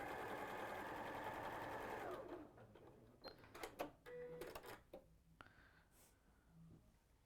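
Steady, close whirring of a sewing machine stitching a 1/4 inch seam to join quilt fabric pieces, which stops after about two seconds and gives way to quiet clicks and fabric handling.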